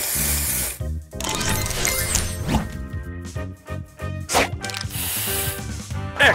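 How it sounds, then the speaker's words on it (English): A spray booster effect in the Match Masters match-three video game sounds as dense hissing sprays and popping hits over busy game music, with sharp bursts and brief gaps in quick succession. "Booster ready. Spray on."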